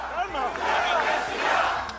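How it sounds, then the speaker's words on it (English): A huge crowd surrounding former Catalan separatist leader Carles Puigdemont in Barcelona roars and cheers, a dense wash of shouting voices that stays loud throughout. "a huge crowd surrounds former Catalan separatist leader Carles Puigdemont"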